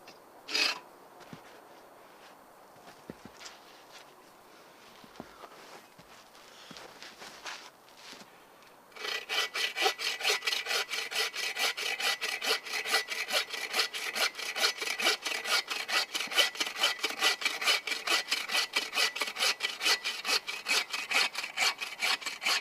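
Wood being sawn at an outdoor shelter build, wet timber, a long steady run of fast rasping back-and-forth strokes, close and loud, after several seconds of quieter shuffling and handling noise; no voices.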